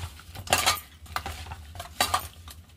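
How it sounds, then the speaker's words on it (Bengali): Fish with roe being mixed by hand with mustard oil in a metal bowl, giving soft wet squelches and a few clinks of utensils against the dish in irregular bursts. "এর মধ্যে আমি একটুখানি এবার সরষের তেল দিয়ে দেবো, দিয়ে ভালো করে আমি এটা মাখিয়ে নেব"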